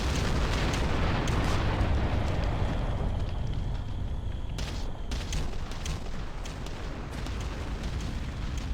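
Artillery bombardment in the video game Ground Control delivers a continuous rumbling roar of explosions, loud and sustained, with scattered sharper blasts and pops in the later part.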